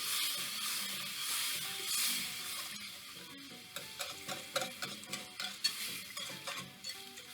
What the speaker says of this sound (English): Now we're going to whisk in our milk.